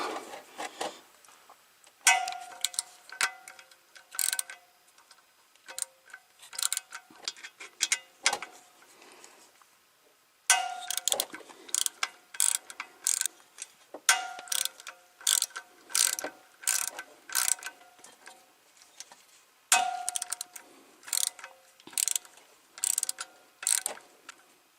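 A ratchet wrench clicks in rapid bursts while backing out the 8mm screws of a C8 Corvette DCT filter, with short pauses between each run of dense ticking close up.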